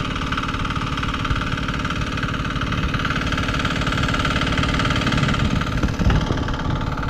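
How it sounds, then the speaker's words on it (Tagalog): A diesel engine idles steadily nearby, a low rhythmic knocking rumble that continues without change, with a brief clatter near the end. "So yun siya, nakaminor yung makina."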